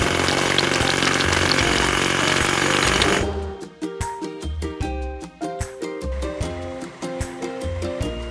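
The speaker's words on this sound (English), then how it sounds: "Hydraulic hammer." A hydraulic hammer breaking rocks pounds loudly in a continuous rattling burst, then strikes in uneven repeated thuds and clanks, close and heavy.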